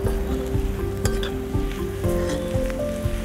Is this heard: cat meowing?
no